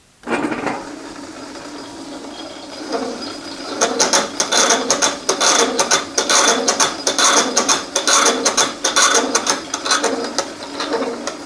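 Harsh rattling metal chatter from a lathe tool cutting a drive hub for a David Bradley play tractor, rapid irregular bursts building after a steady machine whir, loud and close with no voices.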